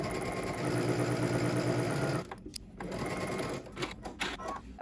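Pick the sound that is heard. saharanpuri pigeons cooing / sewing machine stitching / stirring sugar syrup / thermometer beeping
sewing machine stitching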